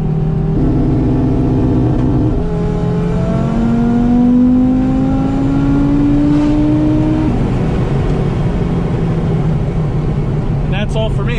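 An Audi RS3 with upgraded fuel lines builds boost on rolling anti-lag and then launches, the engine note climbing and dropping in rising sweeps, loud and close from inside the car, with a voice talking over it.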